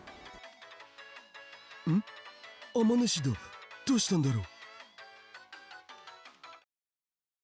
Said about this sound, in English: The ringing that suddenly interrupted our conversation was coming from Daru's phone.